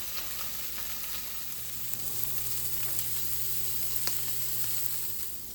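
Slices of Leberkäse sizzle steadily in a pan while bread rolls toast alongside, a soft continuous frying hiss with occasional light pops and faint scrapes, no voices.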